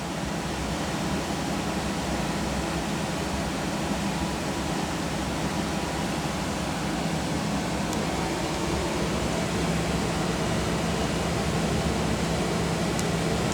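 A Rheem Classic Series furnace blower running after start-up, a steady broad whooshing roar of moving air that stays constant throughout, fairly loud and close, with no talk.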